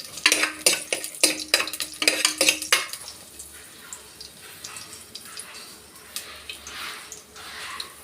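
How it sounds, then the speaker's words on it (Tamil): Mustard seeds spluttering in hot oil for cabbage kootu, with a loud run of sharp metallic clinks from a utensil against the pan early on, then a softer steady crackle and sizzle. "நல்லா கடுகு பொரிஞ்சதும்"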